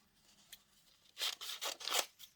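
A few quick snips of scissors through paper, crisp and close, in a short burst of four or five cuts after a quiet start.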